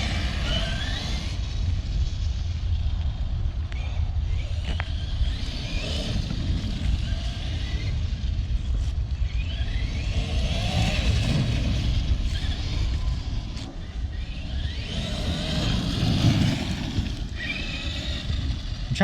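A heavy Traxxas Xmaxx RC monster truck runs steadily on its first outing, its motor and tires giving a continuous rough whir with gusts of wind buffeting the microphone.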